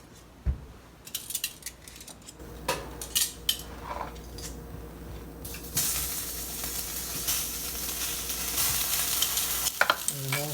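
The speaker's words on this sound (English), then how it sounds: "Now this pan is warming up. I'm going to add some olive oil." Olive oil heating in a hot pan: a few sharp utensil clinks and stirring knocks come first, then a loud, steady hiss of sizzling oil fills the second half, close up with no talking.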